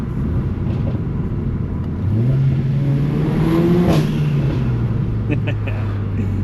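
Porsche and TVR sports cars pass by on a town road in New Zealand, an engine note climbing in pitch as one revs through, peaking and then fading away, with people talking over it.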